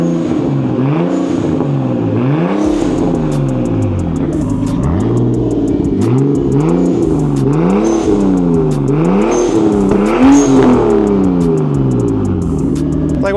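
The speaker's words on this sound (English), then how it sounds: "Give us some revs." A Nissan Skyline R34 GT-R sports car engine revs repeatedly, climbing and falling in pitch through several throttle blips over a deep idling rumble, loud and close.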